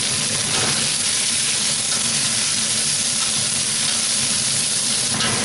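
Onions and chili sauté in an oiled pan for aloo sabzi, a loud, steady, close hiss of frying with faint stirring textures and no voices.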